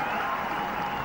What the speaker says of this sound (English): Getting an applause for the effort, the fielder there in the deep.